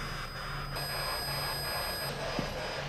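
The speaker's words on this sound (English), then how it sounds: "There's the REM pod, you can hear it." A REM pod ghost-hunting device beeps steadily in a quiet cabin setting, a thin repeating electronic tone held over faint background hiss, close and fairly clear with no talking.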